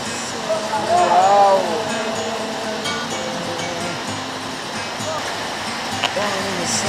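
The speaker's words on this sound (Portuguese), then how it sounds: "Olha a cachoeira que o cara tava falando." A steady rush of falling water from a waterfall fills the background as a constant broadband roar, while someone talks over it in Portuguese.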